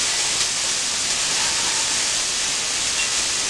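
Onions and green chili hitting a hot pan for upma, giving a steady, loud broadband sizzle and hiss that runs unbroken throughout with no voices.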